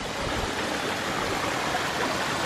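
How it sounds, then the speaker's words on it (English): A built garden waterfall with a broad sheet-style fall gives a steady, even hiss and splash of falling water, moderately loud and continuous, with no voices over it. "We got that kind of big sheet style fall there."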